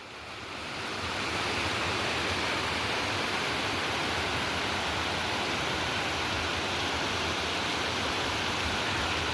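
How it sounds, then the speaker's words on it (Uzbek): Paltau waterfall gives off a steady, dense roar of falling water that rises over the first second and then holds constant, with no voices over it. "o'sha sharsharaga yetib keldik endi"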